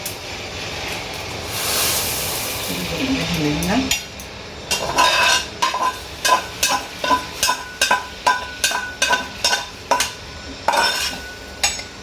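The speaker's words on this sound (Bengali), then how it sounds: "আর মাঝে মাঝে এটাকে নাড়াতে থাকবো" A spoon scrapes and knocks around a pot of fried vermicelli simmering in milk for sweet payesh, starting with a bubbling hiss and then giving way to a run of about a dozen regular, loud metallic stirring strokes.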